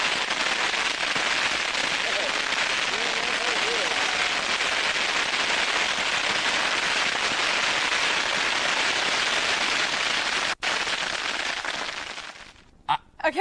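Some 8,500 bottle rockets launching at once make a dense, continuous roar of crackling whooshes that runs loud for about ten seconds, then thins into a few scattered pops at the end.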